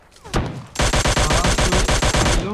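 Rapid automatic gunfire in the video game PUBG Mobile: one early shot, a short pause, then a loud, sustained burst of evenly spaced shots until near the end.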